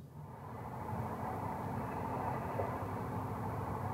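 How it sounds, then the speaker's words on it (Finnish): Train arriving in Oulu, a steady broad rumble of rolling wheels and engine noise holding at even loudness, with no voices. "Juna saapui Ouluun ajallaan."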